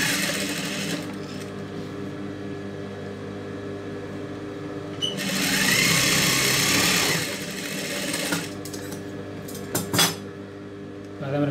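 A sewing machine stitches the lining of a blouse sleeve with a continuous rattling whir, close and steady, swelling louder for a couple of seconds midway, with small clicks of fabric handling and no talk.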